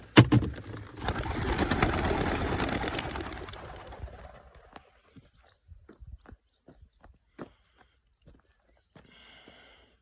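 Seventeen young racing pigeons released on a training toss burst out in a loud flurry of wingbeats that fades within a few seconds, leaving faint scattered flaps and clicks outdoors.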